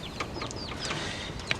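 Backyard chickens in a coop, with several short clucks and chirpy calls over a steady low rumble of background noise, fairly faint and moderately close.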